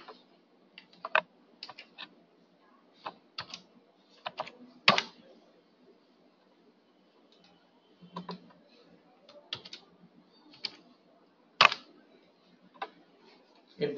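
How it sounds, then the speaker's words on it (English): Keys on a computer keyboard tapped in short irregular bursts while an IP address is entered in a web browser, close and fairly quiet, with pauses between clusters of keystrokes and no talking. "type this IP address"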